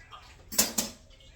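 A fork stabs twice into beef in a cooking pan, two sharp quiet clinks close together in an otherwise quiet moment.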